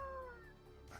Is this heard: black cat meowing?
yes